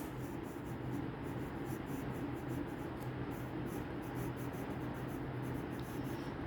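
A pen scratches across paper in steady, continuous strokes, close and fairly quiet, as notes are written out by hand with no voices over it.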